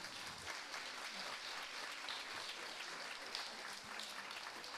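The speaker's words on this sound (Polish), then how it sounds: "Wielkie brawa." Audience applause at a dance school performance in a cultural centre hall, a faint, steady patter of many hands clapping throughout from a distance.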